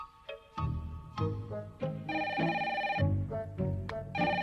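A telephone rings with a cartoonish electronic bell tone, repeating in quick bursts of bright, chiming rings, loud and close, with no voices over it.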